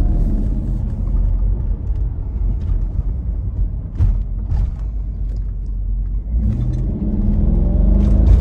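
Mercedes SL55 fitted with new coilovers driving on a road, a steady low engine rumble and road drone throughout, swelling slightly as it accelerates near the end, with no talking.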